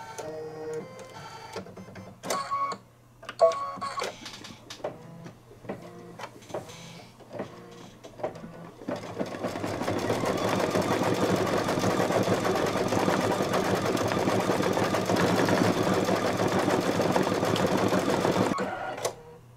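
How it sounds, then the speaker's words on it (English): An embroidery machine stitches Santa's nose on a Santa table runner, a loud, steady, rapid whirring chatter that runs without a break through the second half, after a stretch of scattered short clicks and beeps. "I've done a thread change so we can stitch the nose."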